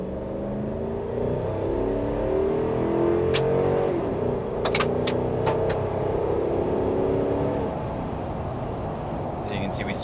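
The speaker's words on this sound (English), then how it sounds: "So we'll do our 0 to 60 test right here." A 2011 Dodge Ram 1500 pickup with a 4.7L V8 accelerates hard from a standstill toward 60 mph, its engine droning steadily and loudly up through the revs, with a brief burst of tire spin near the start.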